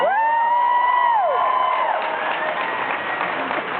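Crowd of family members cheering and whooping at a military family day ceremony, loud and continuous with high shouts rising above a dense mass of voices.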